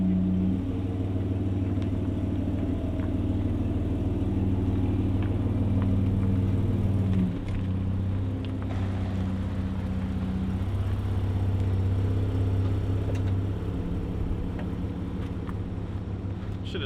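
Toyota Land Cruiser FJ80 engine idling and pulling away, a steady low rumbling drone that holds throughout, with a slight change in tone midway as the vehicle moves out, fairly close.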